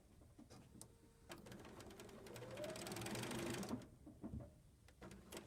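A sewing machine runs in quick bursts, stitching very short little seams with the needle moved to the left side, a close rapid mechanical whir that builds to a sustained run before stopping.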